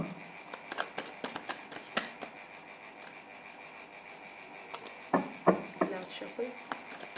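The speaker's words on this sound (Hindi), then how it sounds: "Last shuffle." Tarot cards shuffled by hand in irregular riffling bursts, close and moderately loud, with sharper flurries near the end.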